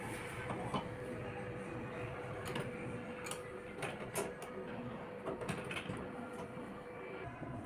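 A sewing machine stitches a kurti collar with a soft, steady mechanical whirr and light ticking taps, running continuously at low volume.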